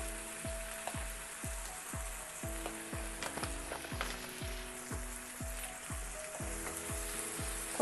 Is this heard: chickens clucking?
no